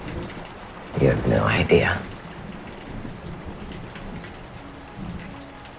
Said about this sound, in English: Big storm coming.